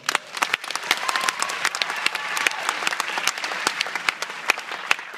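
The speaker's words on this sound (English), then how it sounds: "So give Mitch a round of applause." Audience applause fills the room with dense, steady clapping from a crowd, moderately loud and continuous for several seconds without voices on top.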